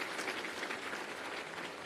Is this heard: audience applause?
yes